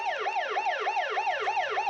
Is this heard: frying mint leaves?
no